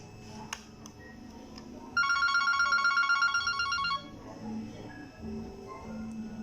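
Telephone rings on a Yeastar S100 phone system during a test call between desk phones, a loud electronic trilling burst lasting about two seconds with faint background noise before and after.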